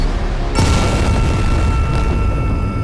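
Heavy gunfire booms out in a film shootout, a dense, loud barrage that starts abruptly and roars continuously with deep low rumble and scattered bursts, no voices.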